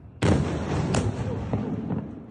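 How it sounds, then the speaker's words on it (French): Missile interceptions over Tel Aviv during a rocket attack: a few muffled, distant booms in an outdoor city, one heavy thud followed by fainter cracks and rumbling, with a faint voice in the background. "Cet habitant de Tel Aviv filme lui l'attaque et les explosions sourdes des interceptions de missiles, ou celles plus rares de leur impact sur le sol."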